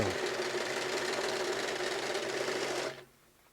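A freshly oiled sewing machine whirs steadily at speed with a rapid mechanical clatter, then stops abruptly, leaving quiet room noise.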